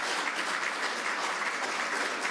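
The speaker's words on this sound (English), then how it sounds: "Let's give her a round of applause." Steady audience applause fills a government policy briefing room, a dense, even clatter of many hands clapping close by, with no voices over it.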